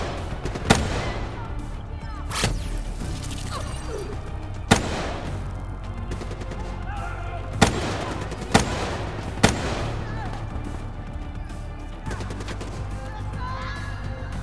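Gunfire in the Black Ops 3 campaign mission Fallen Knight: sharp shots ring out one at a time at irregular intervals, each a loud crack over a constant low rumble of game ambience and music.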